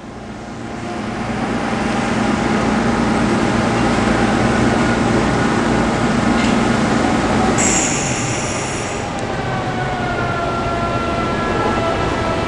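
HTC 8030 cassette and box washer in a rinse cycle, a loud steady mechanical roar of pumps and spraying water with a sustained tonal whine, plus a brief high hiss partway through.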